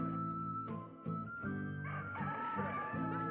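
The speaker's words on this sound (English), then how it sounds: "Chickens." Chickens cluck and crow in the Yono and the Celestial Elephants video game, layered over bright tinkling game music and chimes, with the bird calls rising toward the end.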